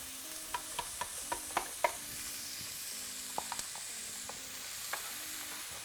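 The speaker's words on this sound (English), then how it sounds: "Careful, because that's gonna sizzle and splatter and all sorts of fun stuff in a second." Peppers in olive oil in a pan give a soft continuous sizzle, with a string of sharp clicks and taps from a utensil against the pan, fairly faint and steady.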